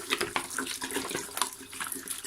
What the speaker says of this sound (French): Versez l'eau sur le côté. La versez pas directement sur la viande.